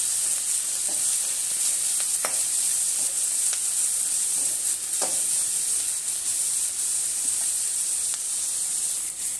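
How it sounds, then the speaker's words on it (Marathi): Onions frying in oil, a steady close hiss and sizzle throughout with a handful of faint stirring clicks. "तेलामध्ये कांदा टाकलेला आहे। आता हे कांदा आपण भाजून घेऊया मस्त छान असा।"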